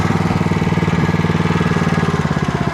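An engine driving a hydraulic pump, likely on a log splitter, runs steadily at low idle with a close, even, throbbing pulse and no voices throughout.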